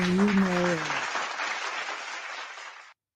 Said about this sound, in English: I want to hear a nice applause.